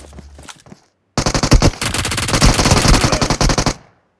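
Rapid automatic gunfire from the PUBG Mobile video game rattles out in a loud, close, sustained burst of evenly spaced shots lasting about two and a half seconds, preceded by a few isolated shots and a brief silence.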